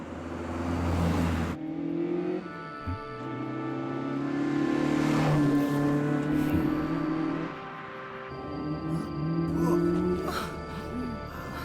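A Panda Terreno car climbs a mountain pass, its engine revving and rising in pitch as it approaches, loud and sustained with tyre noise, under music and talking voices.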